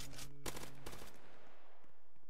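M4 rifle fire in the Roblox zombie game Zombie Uprising, a loud dense burst of rapid automatic shots for the first second, then quieter game ambience with a few faint pops.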